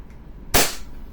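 An SRC 5.1 Hi-Capa silver airsoft pistol fires one sharp, loud crack, close by and alone, followed by quiet.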